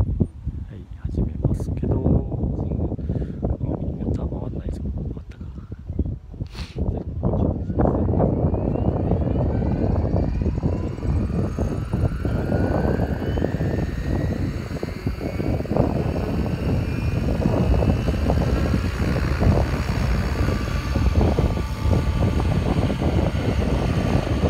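A REX700L V2 radio-controlled helicopter flies outdoors in strong wind, its steady rotor and motor drone continuous and fairly loud, with a rising whine later and some brief knocks early on.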